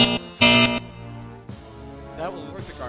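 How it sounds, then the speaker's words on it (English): A guard alarm button in the video game Federation Admissions sounds off in short, bright tonal bursts with sharp starts and stops, followed by quieter warbling, rising electronic tones. "The red button is for calling guards, and it will sound like this."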